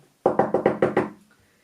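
Six loud, evenly spaced knocks strike a temple door in rapid succession, each a sharp close thud with a brief decay, followed by near silence.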